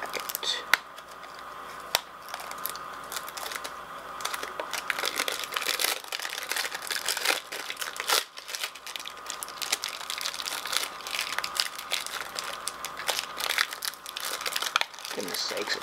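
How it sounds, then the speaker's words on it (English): Plastic film crinkles and rustles as it is peeled off a Nintendo Switch case, a close, scratchy crackle running steadily throughout. "first I'm going to get the plastic off so you can actually see the screen, or see the case"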